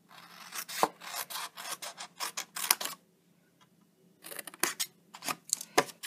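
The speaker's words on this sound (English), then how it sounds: "now I'm just going to do some snipping" Scissors snip through scored card for a chocolate treat box, a quick run of crisp close cuts, a brief pause, then another burst of snips.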